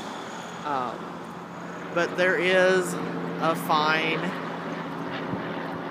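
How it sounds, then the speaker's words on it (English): Steady broadband traffic roar from Interstate 17 runs through the whole stretch, a constant wash of passing vehicles under a person talking close by in the foreground. "All that noise is Interstate 17."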